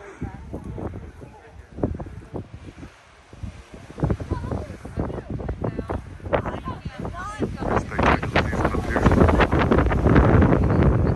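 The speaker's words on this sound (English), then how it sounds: "Very windy." Gusty wind buffets the microphone with low rumbling bursts on a mountain clifftop while a person talks over it, growing louder toward the end.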